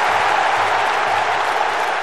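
Stadium crowd applauding in the London 2012 Olympics video game during the men's high jump, a steady, dense wash of clapping and murmur that fills the whole stretch without a break.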